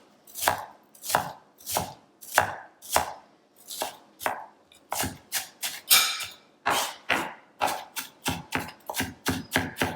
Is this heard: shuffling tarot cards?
no